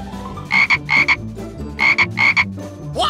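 A cartoon frog croaks in two paired bursts of loud, ringing calls, each pair repeated twice over a low, busy backdrop, with a further croak rising at the end.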